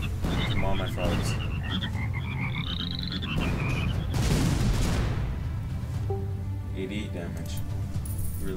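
Frogs croak from the artillery game Shellshock Live, a busy burst of croaks layered over booming shots, music and constant clatter, loud throughout with no clear talk.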